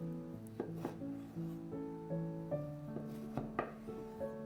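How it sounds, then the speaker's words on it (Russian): A knife cuts a fresh tomato into small cubes on a board, giving a series of soft, close taps at an uneven pace under quiet background music. "И затем небольшими кубиками."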